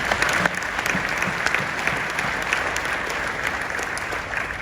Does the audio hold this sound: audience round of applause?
yes